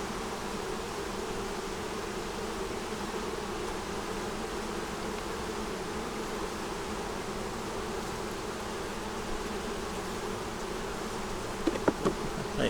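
A bee buzzes steadily near an insect feeder, a constant close hum lasting the whole stretch with a few faint clicks near the end, no talking.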